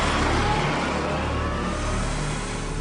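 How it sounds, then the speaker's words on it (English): A V-twin motorcycle engine revs and accelerates close by at a road junction, a steady broadband roar that stays loud throughout with no speech. "a red V-twin motorcycle comes up to the junction."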